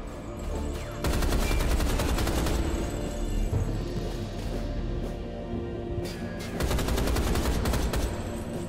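Sustained rapid gunfire in the 2013 video game Rise of the Triad, loud and close: long automatic bursts hammer on for several seconds with brief lulls, and a heavy boom lands partway through.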